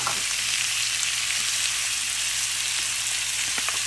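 Onions with ginger and garlic sauté in a pan for dhaba-style matar paneer, giving a constant bright hiss of frying oil that stays even and close, with faint scrapes near the end.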